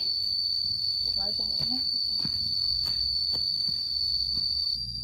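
Crickets chirp loudly and steadily in a rainy garden, a continuous high insect drone running close throughout, with scattered faint rustles and brief low sounds beneath.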